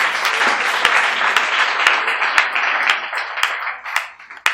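A church congregation applauds together, steady close clapping filling the room with a few sharper individual claps standing out, fading slightly toward the end.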